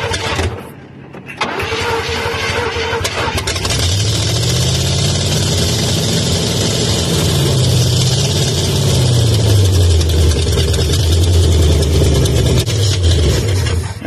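A 1968 Pontiac Firebird barn find on its original spark plugs cranks briefly, catches and settles into a loud, steady idle with a low rumble that rises and falls, close by with no talk.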